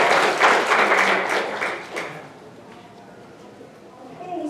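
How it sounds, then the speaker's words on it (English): Audience applause for speakers at an evening mental health workshop, a dense burst of clapping that is loud for the first two seconds and then fades to scattered claps and murmuring. "give them a round of applause"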